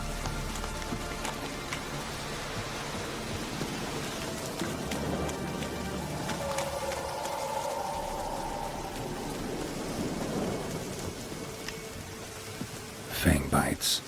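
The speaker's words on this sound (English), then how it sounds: "Looks like rain." Steady rain patters and hisses across surfaces throughout in The Witcher 3, with a faint tonal hum mid-way and a brief burst of clattering noise near the end.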